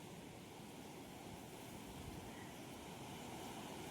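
Sea surf washes against the shore at high tide as a steady, broad roar of breaking water, faint and continuous with a little wind noise and no voices.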